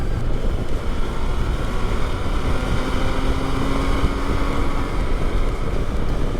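An MV Agusta 2020 motorcycle engine drones steadily and loudly while the bike is ridden through a curve, with a continuous low rumble and wind noise and a faint rising tone in the middle.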